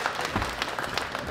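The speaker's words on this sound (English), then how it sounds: "Big round of applause for our winners." Audience applause at a world classic powerlifting championship awards ceremony, a steady patter of clapping from the crowd filling the hall for the medal winners.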